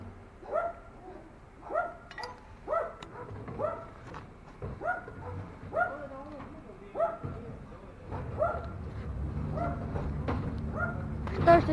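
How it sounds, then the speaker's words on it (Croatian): A dog barks repeatedly in the background on a street, about ten barks at fairly regular intervals. The barks are moderately distant, over a low steady ambience that thickens toward the end. "To što čujete neki pas u pozadini nije ništa to."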